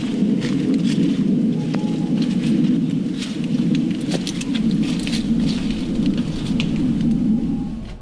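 Rain pours steadily in a forest at night during a campsite thunderstorm, a dense constant hiss with low rumbling thunder running underneath throughout.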